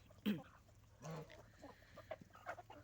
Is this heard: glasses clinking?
no